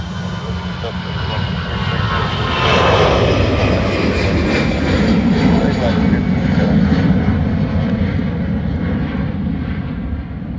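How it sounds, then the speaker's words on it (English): Aer Lingus jet airliner departing Dublin Airport, a loud swelling engine roar that peaks and holds as it passes, with people talking over it. "Aer Lingus departing to Birmingham."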